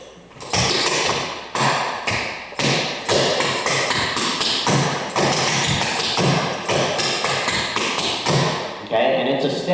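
Clogging dance shoes tap out a fast tempo switch step, crisp loud clusters of taps and stomps in quick rhythmic bursts with short pauses between phrases, close and alone.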